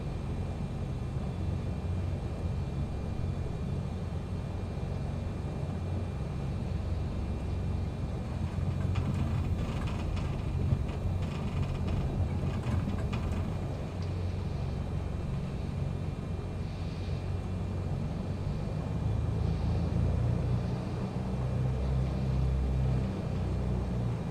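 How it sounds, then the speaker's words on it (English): A small airplane taxis and turns on a runway, its engine and propeller giving a steady, close, broadband rumble that holds for the whole stretch with slight swells, and no voices. "Let's see if we can turn around within the confines of the runway."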